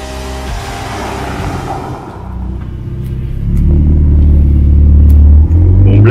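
A Ferrari 488 Pista track-focused sports car, loud and close, its engine note rising from a steady drone into a deep, heavy rumble as it pulls away, with no talking.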